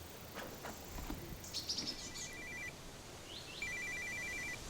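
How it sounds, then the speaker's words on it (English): A satellite phone rings outdoors in a forest, giving two bursts of an electronic trill over a background of birdsong and chirps, with no talking. "Is that your sat phone?"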